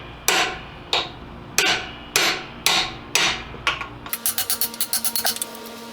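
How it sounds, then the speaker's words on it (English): Wheel studs being hammered out of a Chrysler 9.25 axle flange: six loud, ringing metal blows spaced about a second apart, then a quick run of lighter, faster taps, close and without speech. "we're going to go ahead and just remove these studs"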